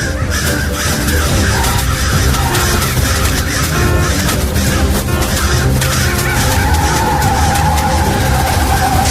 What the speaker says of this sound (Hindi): कौशिक अपनी बात पूरी कर पाए उससे पहले ही गाड़ी का सचमुच एक्सीडेंट हुआ।